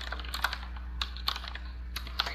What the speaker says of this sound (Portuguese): É que a tecla é mecânica, mano. Daí faz mó barulhão.